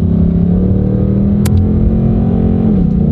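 Car engine holding a loud, steady low drone during a slow gear shift, the pitch dipping slightly near the end, with a brief sharp click partway through.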